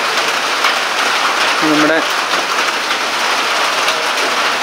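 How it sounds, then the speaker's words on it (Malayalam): Heavy rain pours steadily at a jungle stay in Kanthalloor, a dense, constant hiss filling the scene from start to finish, with a brief voice speaking over it partway through. "നല്ല അടിപൊളി മഴ തകർക്കാണ്"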